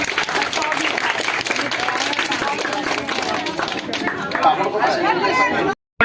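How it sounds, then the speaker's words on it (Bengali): Outdoors at a children's sports competition, a crowd claps steadily for the first-place winner, with lots of chatter and shouting over the applause before it cuts off abruptly near the end. "হাততালি কৌশিকার জন্য সবাই"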